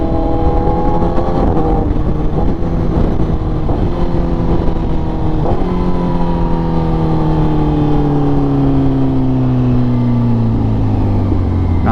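A 2025 Honda CBR 1000RR-R Fireblade SP with an SC Project exhaust runs hard and close, its loud engine rising through the gears, then holding a long, falling tone as it winds down.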